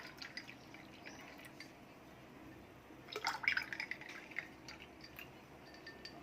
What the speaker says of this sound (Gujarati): તેમાં ઠંડુ પાણી એડ કરીશું